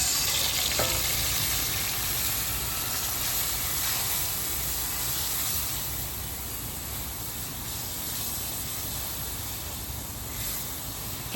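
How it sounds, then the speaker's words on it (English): Tomatoes sauté in a hot pan for a Chinese tofu soup, a dense, continuous sizzle and crackle that holds steady throughout, easing slightly partway, with no talking. "now we're going to saute our tomatoes"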